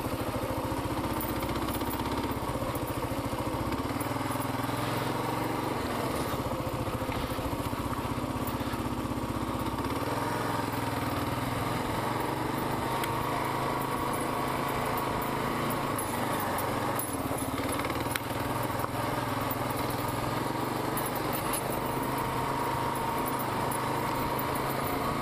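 A Kawasaki KLR650 motorcycle rides off road, its single-cylinder engine a steady loud drone held at an even pitch throughout, with no talking.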